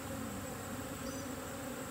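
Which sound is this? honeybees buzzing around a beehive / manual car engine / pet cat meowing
honeybees buzzing around a beehive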